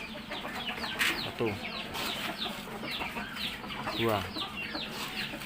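Farm chickens cluck close by, with a few distinct bursts and sharp calls rising over a busy background, while someone talks alongside them.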